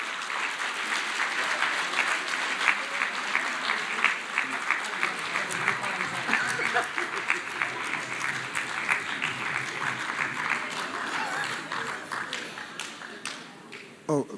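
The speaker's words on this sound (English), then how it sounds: "A big applause" At a matric top achievers award ceremony in the Eastern Cape, a large audience gives loud, continuous applause to welcome the provincial Premier. Sharper claps stand out within the dense clatter, which tapers off near the end.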